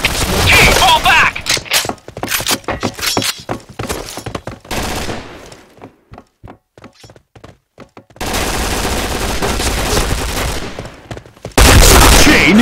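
Rapid gunfire in the shooter game Point Blank, with bursts of automatic shots, scattered single cracks and thuds, a sparse pause mid-clip, then dense loud firing returning.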